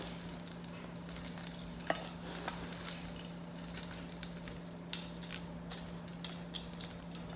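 Energy bar mixture is stirred and squished in a bowl, with soft repeated wet scraping strokes over a steady low appliance hum.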